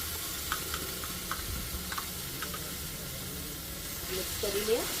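Yogurt stirred into sizzling spiced masala for dum aloo, a steady soft frying hiss with light scraping and stirring clinks, fairly quiet and close.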